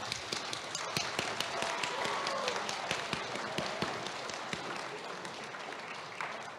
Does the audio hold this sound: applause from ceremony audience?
yes